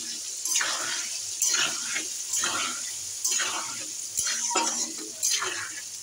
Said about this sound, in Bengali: হলুদ দেবো একটু, দিয়ে আলুগুলো ভালো করে ভেজে নেবো।